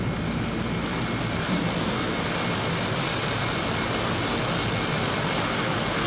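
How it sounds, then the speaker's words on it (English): A Fokker 50's propeller engines drone in a flight simulator, a loud, steady, broadband roar with a faint tonal whine, unbroken and with no talking. "Engines up and running."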